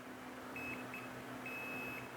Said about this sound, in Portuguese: apertando o botão, ele bipa